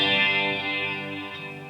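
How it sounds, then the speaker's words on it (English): A Boss GT-1000 guitar processor set to a jazz chorus sound rings out as a single sustained, shimmering chord that fades slowly. It plays alone with no voices. "this is the jazz chorus sound"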